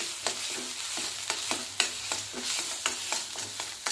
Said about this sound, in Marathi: आता हे छान भाजून घेऊया मसाले।